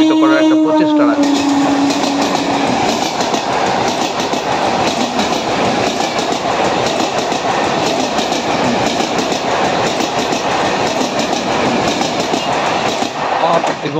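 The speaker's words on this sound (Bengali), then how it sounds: "আপ এবং ডাউন ট্রেন যখন পাস হয় তখন বেশ অনেকক্ষণ ধরেই রেল গেটটি পড়ে থাকে" A train passing a railway level crossing gate: a loud, close, continuous rumble with a rhythmic clickety-clack of wheels over rail joints that lasts throughout, with a brief tonal horn or squeal at the start.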